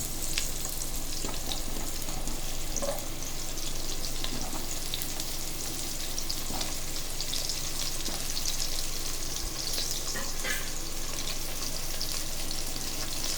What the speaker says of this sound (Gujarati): હવે આપણે તેની ઉપર આખી ડુંગળી મૂકવાની છે, જેને મેં કાપા પાડેલી છે.